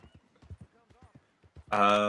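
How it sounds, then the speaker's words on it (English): Video game horse hooves clip-clop in a quick, regular rhythm, close and fairly soft, and a loud horse whinny breaks in at the end. "I will take the horse up to the top"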